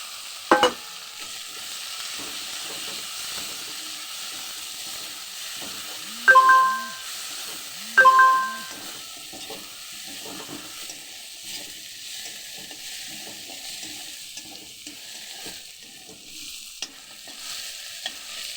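Chopped onions and tomatoes frying in a pan, a steady soft sizzle with occasional stirring scrapes and a few sharper clinks of a utensil against the pan, with no talk.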